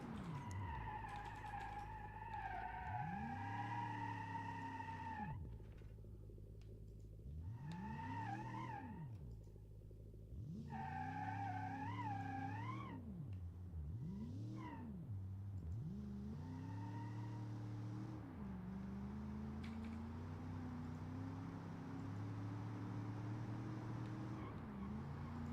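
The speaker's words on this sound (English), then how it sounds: "Man, this engine is really quiet." In the BeamNG driving game, a 1961 small family hatchback with an automatic gearbox runs a quiet engine. Its pitch climbs and drops in repeated waves as it revs and shifts, faint and alone without talk.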